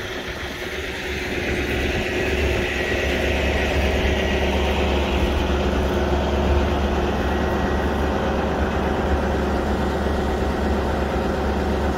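A 60,000-pound tractor works hard on wet grass while towing a Porsche 911, its engine a steady, heavy low drone with continuous mechanical hum that holds constant and fairly loud, with no talking.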